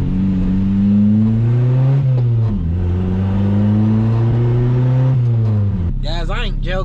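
A 1979 Chevy LUV engine revs loudly up close, its tone rising and falling in several steady swells before dropping, with a sharper rattling burst near the end.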